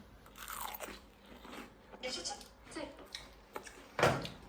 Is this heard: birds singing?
no